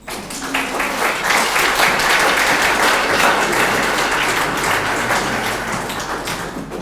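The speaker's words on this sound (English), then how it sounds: "it says on my notes, audience claps at this point" Sustained audience applause fills an art gallery launch event, a dense wash of clapping hands swelling steadily and holding for several seconds before slowly thinning at the end, with no talking over it.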